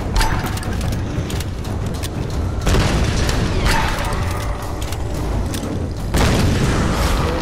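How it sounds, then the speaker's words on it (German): Heavy booming blasts from a grenade in the Tomb Raider video game, several loud explosions with rumbling tails, a strong one near the middle and another near the end, with no talking over them. "Granate."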